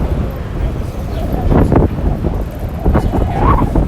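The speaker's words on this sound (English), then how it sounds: "Wind picked up." Wind blowing outdoors rumbles steadily into the microphone with gusty swells, a continuous low roar that rises and falls throughout.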